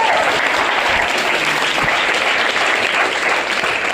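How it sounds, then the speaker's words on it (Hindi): Loud, sustained applause from a crowd in an audience, dense and continuous throughout with a faint voice underneath. "जोरदार ताली आप सब लोग के लिए होनी चाहिए।"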